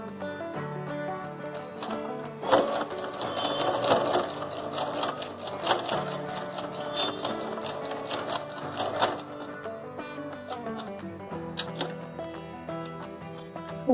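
A sewing machine stitches lace onto a satin dupatta, its needle running continuously in a fast, even mechanical patter with faint ratcheting clicks, close and steady for the whole stretch.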